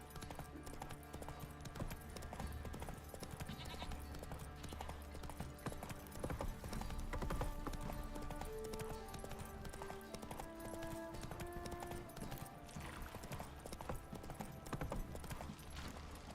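Steady hoofbeats of horses in The Witcher 3: Wild Hunt clip-clop along throughout, with an occasional whinny and a low ambient hum underneath.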